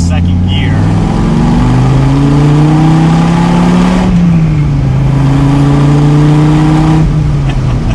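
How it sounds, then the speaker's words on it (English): A Dodge Viper's big old-school V10 pulls hard from about 20 mph in second gear, a loud, deep engine note climbing steadily in pitch, dipping briefly partway through and then rising again close up. "let's see what the acceleration is like in this car. We have a big old school V10. Let's see, from about 20 miles an hour in second gear"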